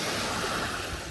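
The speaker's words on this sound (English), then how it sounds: "There's the waves." Lake Erie waves wash onto a dirty sand shore, a steady rushing surf noise mixed with wind across the microphone.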